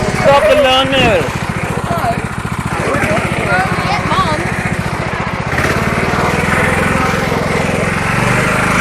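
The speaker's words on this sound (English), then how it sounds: "Stop the lawnmower." A lawn mower engine runs loudly and steadily with a pulsing, buzzing chug, while people talk and shout over it.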